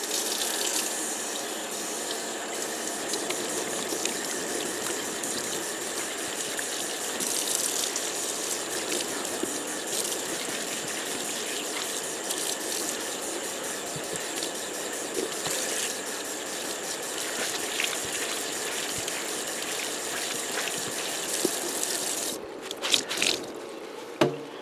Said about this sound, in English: Let's go ahead and rinse it out.